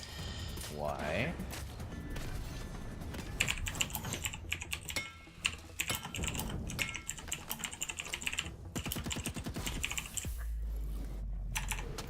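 Computer keyboard typing runs steadily under game audio and music, with an occasional person talking nearby.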